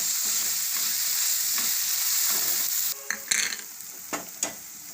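Fenugreek leaves frying in a pan for methi matar paneer, a loud continuous hiss that drops midway, followed by several spatula scrapes and knocks against the pan, close up and without talk.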